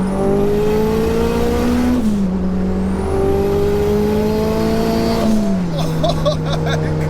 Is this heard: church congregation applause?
no